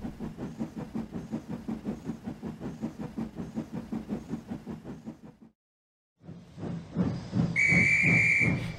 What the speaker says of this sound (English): when the guard's whistle blew